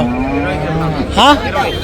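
A crossbred calf lets out a loud, close moo that rises and falls briefly, following a lower drawn-out bellow, at a cattle market.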